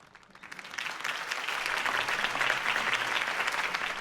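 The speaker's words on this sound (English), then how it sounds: "If only Mr. Wayne, my campaign's largest backer, could have heard that applause" Crowd applause at a political campaign rally for Harvey Dent in the Batman Telltale Series video game, a steady clapping roar that swells after the first half second and holds loud and full to the end.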